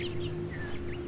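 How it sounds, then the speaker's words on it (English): Birds chirping outside in the video game The Stanley Parable: several short, thin chirps and tweets at moderate level over a steady hum. "I love that we hear the birds chirping outside."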